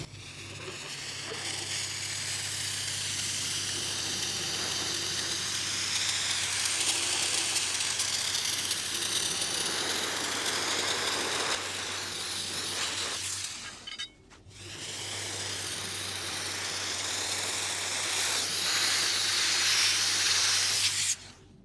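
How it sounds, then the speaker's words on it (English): Shot blasting a car part being cleaned before powder coating, a continuous loud hissing blast of air and grit that stops briefly midway, then resumes. "So I'm going to shot blast this and we'll see."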